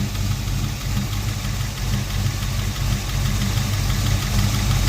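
A V8 Chevy engine idling around 740 RPM, a loud, steady low rumble with an even pulsing throb, close up and alone without talk.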